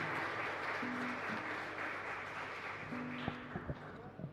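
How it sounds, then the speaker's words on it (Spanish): A church congregation at Mass in a chapel in Fernando de la Mora claps together, a soft, diffuse patter of applause heard from a distance, with faint tones and a few louder knocks near the end. "muchas gracias con este fuerte aplauso que le brindamos como comunidad"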